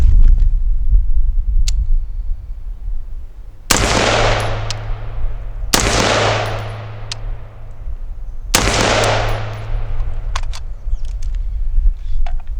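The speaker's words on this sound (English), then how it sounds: "Here, I'm shooting with no support except my arms, so it might go even slower." Three sharp, loud gunshots are fired from an unsupported, arms-only shooting stance, spaced about two to three seconds apart, each with a long decaying echo over a low steady background.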